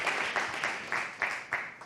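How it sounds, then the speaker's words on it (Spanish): Audience at a culinary entrepreneurs' forum closing event applauding an award winner, a short burst of rhythmic clapping with a few distinct beats, fairly faint. "Un aplauso a José María Isega."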